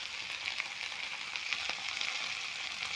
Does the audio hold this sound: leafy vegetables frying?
yes